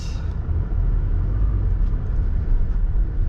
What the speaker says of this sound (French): Voici donc au volant de la Mégane 4